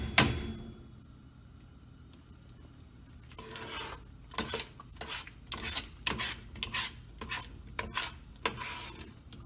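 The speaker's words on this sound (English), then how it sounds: "Gets a little hard to stir when it starts to change the consistency into the Play-Doh ball." A spoon scrapes and knocks through a thickening homemade Play-Doh mixture in a pot, giving a quiet run of uneven clacks and scrapes that come faster toward the end, with no talking.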